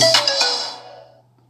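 A short phone ringtone sounds once, a bright electronic chime that plays briefly and then fades out alone, with no talking over it.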